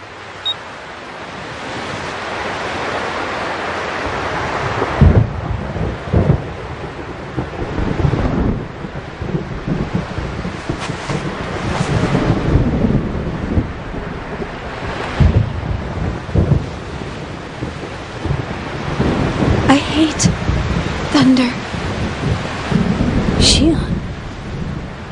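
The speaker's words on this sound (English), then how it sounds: "I just really hate thunder." Thunderstorm on an artificial beach in the video game Xenosaga: steady rolling surf and rain with deep thunder rumbles swelling through, loud and continuous, with wind and some speech mixed under it.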